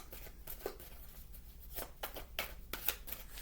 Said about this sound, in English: I was still shuffling because I wasn't sure about that deck.